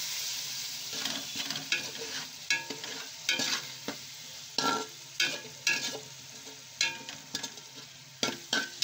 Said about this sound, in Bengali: 1 চামচ সব কষাতে ভালো করে আমি মিক্স করে নেব সুন্দরভাবে।